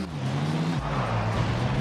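A car driving in Tony Hawk's Underground on PS2, a steady low engine drone whose pitch holds, drops and dips again, mixed with background game sound.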